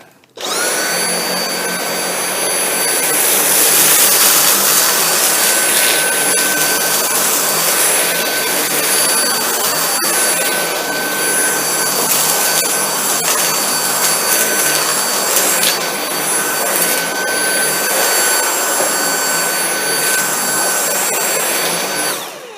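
A Dyson V8 Absolute cordless vacuum cleaner runs on a bare floor, sucking up fine dust, lentils, Cheerios and pet hair with a loud, steady high-pitched whine that holds for about twenty seconds, with no talking.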